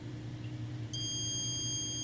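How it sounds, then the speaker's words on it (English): A continuity tester lets out a sudden, steady high electronic beep when its probes touch, holding on alone over a low background hum. "So if I just put them together, it beeps."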